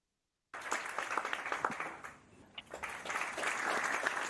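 Recorded applause plays over a voice call, a dense, crackling wash of many hands clapping that starts suddenly, dips briefly midway and swells again, fairly faint.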